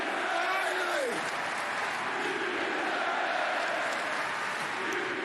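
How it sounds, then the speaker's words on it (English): Arena crowd at the AEW Double or Nothing wrestling event applauding and cheering loudly for a wrestler, a dense sustained roar with voices rising and falling through the crowd noise. "This crowd loves this guy."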